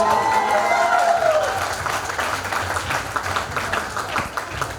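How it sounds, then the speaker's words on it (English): Loud audience applause at the Wonders of Womanhood 2021 award night, a steady wash of many clapping hands that starts with a voice briefly over it and then continues alone, slowly easing off. "Ladies and gentlemen, loud round of applause"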